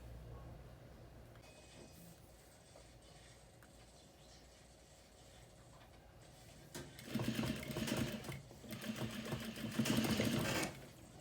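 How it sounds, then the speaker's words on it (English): A sewing machine stitches a fabric scrunchie closed, starting after a quiet stretch with a steady mechanical whir that surges loud and close for several seconds, then pauses briefly before whirring again. "you're gonna go back to your sewing machine"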